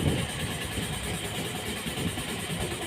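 A Mitsubishi Pajero engine idles steadily during an engine flush test, giving a constant close rumble with a broad hiss and no change in pace throughout.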